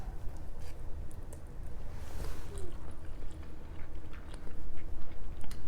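Someone chews rice noodles with pesto close to the mic, with soft, wet, irregular mouth sounds and occasional faint clicks, fairly quiet and without talking.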